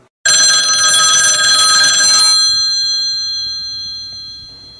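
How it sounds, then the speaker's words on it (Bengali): An old-style telephone bell rings loudly for about two seconds as a sound effect in a narrated detective story, then its metallic tone lingers and fades away, with no talking. "হঠাৎ ফোনটা বেজে উঠল।"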